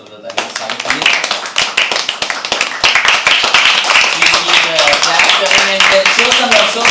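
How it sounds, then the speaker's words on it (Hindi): Applause from an audience at a live poetry open mic at The Habitat, a dense steady patter of many hands clapping that builds and holds, with voices mixed in underneath. "जोरदार तालियां, जोरदार तालियां स्वागत करिए।"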